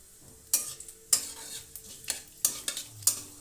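Bay leaf, dry red chili and five-spice seeds hit hot oil while making a sweet-sour-spicy pickle, giving sharp crackling sizzles and stirring scrapes in four or five distinct bursts over a low frying hiss.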